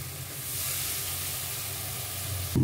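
Spice paste for a cauliflower curry sizzles steadily in a pan, a continuous broadband hiss at moderate level with no talk over it, ending in a brief louder knock.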